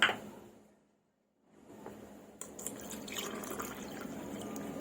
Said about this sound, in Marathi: आता आपण त्यामध्ये बघा थंड पाणी टाकूया